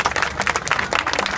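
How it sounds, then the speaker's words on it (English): A crowd at a beach ribbon-cutting ceremony in Providence claps for honorees. The applause is close, lively and dense, filling the short moment without speech. "a big round of applause for the Goldners"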